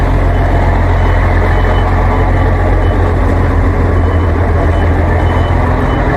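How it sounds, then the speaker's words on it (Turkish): Mercedes 1844 truck engine idling loudly and close, a steady heavy diesel rumble throughout with no pauses, on a truck stop in Hungary. "44'ler böyle dostlar böyle sesli çalışır,"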